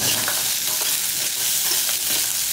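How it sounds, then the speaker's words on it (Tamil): Mutton kuzhambu ingredients with coriander leaves sautéing in a pan, giving a steady, close hiss of frying with soft stirring scrapes throughout. "போட்டுட்டு நல்லா வதக்கிக்கலாம்."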